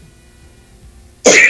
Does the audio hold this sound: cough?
yes